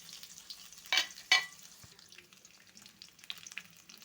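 Mustard seeds fry in hot oil for a rajma curry, with two sharp, loud pops close together followed by quieter, scattered crackling and sizzling.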